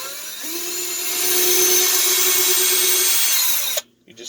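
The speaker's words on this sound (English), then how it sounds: "I've got mine on a drill" Cordless drill whines steadily for about three seconds while backing a 7/16 screw out of a Whirlpool agitatorless washer hub, then stops abruptly.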